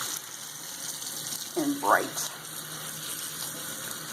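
Cold water running over a silk scarf to rinse out soap, a gentle steady trickle with a brief splashing gurgle as the fabric is worked under the flow, while someone talks briefly.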